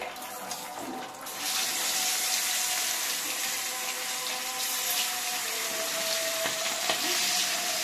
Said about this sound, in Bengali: মাছটা আমি খুব লাল করে ভাজবো না, হালকা করে ভাজবো